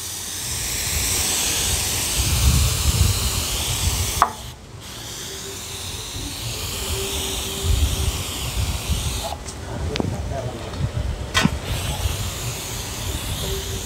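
A homemade compressor-driven paint sprayer spraying paint gives a loud, steady airy hiss with low rumble, briefly cut off twice and restarted, close by and without talk.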